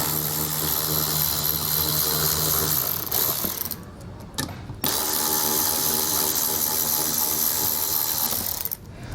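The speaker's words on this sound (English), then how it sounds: "We're gonna go ahead and take these 7mm screws out." 7mm screws come out of an underbody panel on a 2022 vehicle, driven by a ratcheting tool: a loud, close, continuous mechanical whirring and clicking that pauses briefly midway and then resumes.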